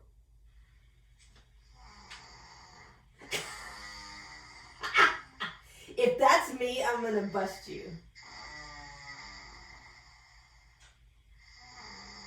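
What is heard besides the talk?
person snoring, recording played from phone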